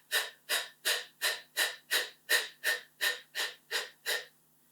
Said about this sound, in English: Then we can go for a second exercise where we take short puffs out.